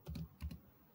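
Typing on a computer keyboard during an HTML coding lesson: two short bursts of clustered key clicks, close and fairly quiet, with no talking.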